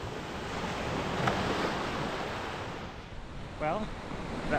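Ocean surf rolling onto a Cancun coastline, a continuous broad wash of breaking waves with wind buffeting the microphone and no clear pauses.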